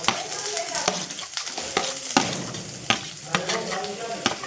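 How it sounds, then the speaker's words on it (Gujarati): Chopped onions fry and sizzle steadily in a pan for spaghetti-style masala pasta, with the near, continuous crackle broken by periodic scraping stirs of a spoon. "પહેલાં છે ને ડુંગળીનો વઘાર મારવાનો, એટલે ડુંગળી ફટાફટ આપણી સડી જાય"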